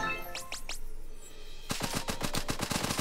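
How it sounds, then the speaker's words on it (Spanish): An upgraded minigun fires in the video game One Step From Eden: a few quick rising electronic swoops give way to a rapid, punchy burst of gunfire with evenly spaced shots, loud and up front. "puedo mejorar la minigun también."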